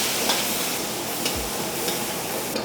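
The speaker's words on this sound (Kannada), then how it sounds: "ಅದರಲ್ಲಿ ಸ್ವಲ್ಪ ಈರುಳ್ಳಿ ಹಾಕೋತಾ ಇದ್ದೀನಿ" Onions fry with a steady sizzle in a pan while being stirred, soft scraping strokes recurring every half second or so, close and continuous with no voices.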